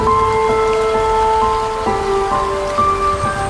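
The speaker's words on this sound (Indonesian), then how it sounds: "Di teras depan rumah tua itu, air menetes dari ujung genteng yang retak, mengisi irama yang menenteramkan." Rainwater dripping from cracked roof tiles onto the porch of an old house, a steady wash of rain with a faint ringing tone running through it, close and even, no voices.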